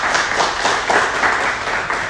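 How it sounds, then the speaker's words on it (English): Applause at a business presentation on affordable housing, a loud, close, continuous clatter of many hands clapping with no voices over it. "Let's give them a round of applause."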